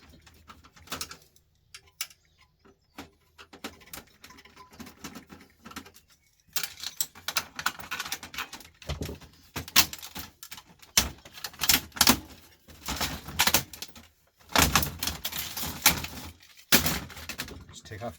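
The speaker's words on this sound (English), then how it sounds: "Just loosen any screws I can get out of it first." Screws being loosened on an old JVC DVD recorder, with scattered small metallic clicks, scrapes and taps that come close, irregular and intermittent, growing busier and louder in bursts in the second half, with faint voice now and then.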